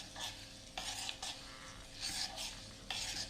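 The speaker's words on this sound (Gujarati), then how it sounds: "અને એને આ રીતે હલાવીને ઓગાળીશું" A spoon stirs jaggery pieces in water inside a pot to melt them, giving several close scraping, swishing strokes in uneven bursts separated by short pauses, with no voices.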